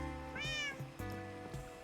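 A cat in Minecraft lets out one clear, rising meow amid soft in-game ambience, with no talking.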